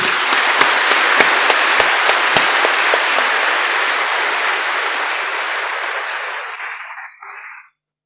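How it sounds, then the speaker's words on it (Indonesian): A congregation at a religious gathering bursts into loud, close applause for a newly appointed leader. Dense clapping carries on steadily for about seven seconds, then thins and dies away. "Tepuk tangan untuk Cak Aziz."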